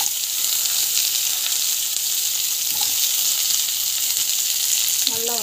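Onions and green chilies fry in hot oil in a kadai, a steady close sizzle that fills the whole stretch, with a brief stir near the end and no voices.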